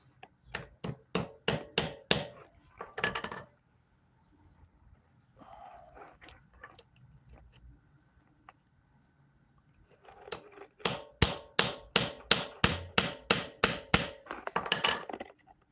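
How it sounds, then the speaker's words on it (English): Metal hammer tapping a pin into a clutch shaft from a Chinese motorized bicycle engine kit, two loud bursts of rapid, evenly spaced sharp strikes separated by a quieter stretch of faint handling noise. "Take your hammer, right? And you gotta tap it into place."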